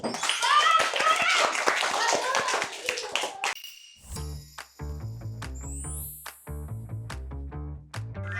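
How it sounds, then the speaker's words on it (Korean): Children clapping together at an elementary school in Chungbuk, lively hand claps mixed with excited kids' voices for a few seconds, then the clapping stops and bright tuned musical notes play on their own. "박수 박수."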